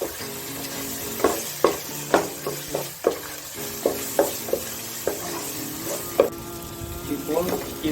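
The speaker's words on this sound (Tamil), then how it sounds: "இதை நல்லா வந்து வதக்க போகிறோம்." Chicken sizzles in a hot pan while being sautéed for parsley chicken gravy, with repeated sharp scraping stir strokes over a steady frying hiss.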